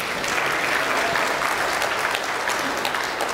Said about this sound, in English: y'all can applaud that.